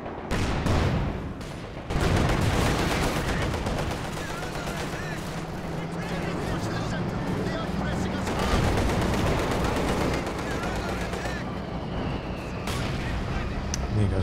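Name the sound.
mortar firing in the Company of Heroes 2 video game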